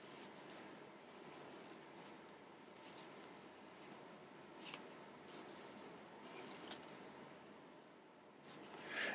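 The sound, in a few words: writing/sketching a table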